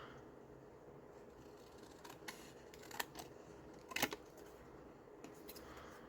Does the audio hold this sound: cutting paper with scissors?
yes